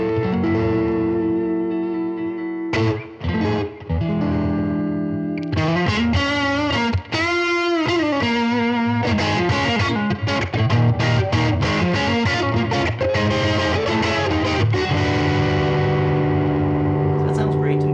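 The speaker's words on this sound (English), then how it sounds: "Getting reverb from the Keeley Caverns. Running through classic blackface style Fender amp." Fender Player II Telecaster electric guitar played through a Keeley Caverns reverb into a blackface-style Fender amp, with a continuous run of strummed chords and picked lines carrying a reverb tail, loud and close, with no talking.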